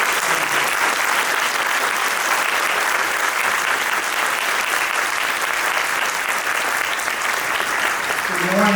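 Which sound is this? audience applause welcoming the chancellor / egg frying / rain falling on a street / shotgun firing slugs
audience applause welcoming the chancellor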